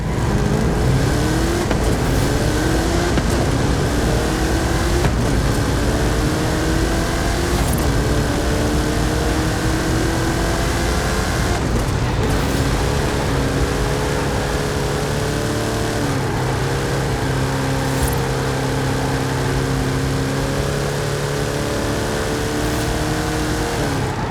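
Hot Wheels cars drag racing in the video game Forza Horizon 5, with loud continuous engine roar and revving, rising and shifting pitch as the cars accelerate, dense and close with no talk.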